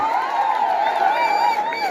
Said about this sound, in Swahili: Makofi tena ya babu